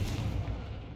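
A Confringo blasting spell bursts in Hogwarts Legacy, a single deep booming explosion that rumbles and fades over about a second, with no talk.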